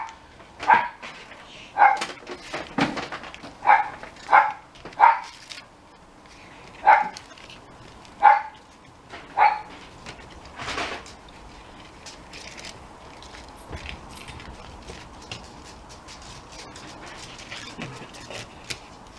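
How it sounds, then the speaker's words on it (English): A dog barks repeatedly in a loose series of sharp, fairly close woofs, answering a dog far off, then falls quiet as low room noise continues. "a dog's barked 14 miles away and Timmy feels compelled to answer"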